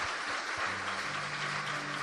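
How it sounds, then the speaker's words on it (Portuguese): A church congregation applauds its pastor, a steady broad wash of clapping held at a moderate level through the short moment, with a low sustained musical tone underneath. "Can we give it up for your pastor?"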